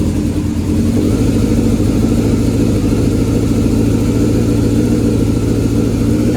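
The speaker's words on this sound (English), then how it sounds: "you can kind of hear the way that it's idling." A 2005 Yamaha YZF600R motorcycle engine idles steadily and close up, a loud, even low rumble with a faint rhythmic pulse and no voices over it.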